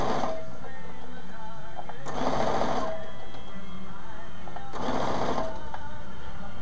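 Sewing machine stitching fabric for an ironing board cover, two short bursts of rapid mechanical whirring separated by quiet pauses, close and clear.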